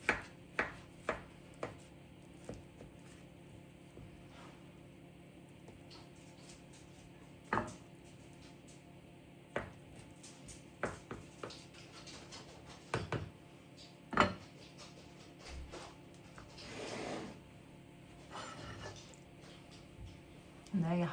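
Serving utensils clink and scrape against a dish while mushroom cottage pie with a carrot, swede and potato top and cheesy topping is dished up, scattered sharp taps and soft scoops spread through quiet room tone.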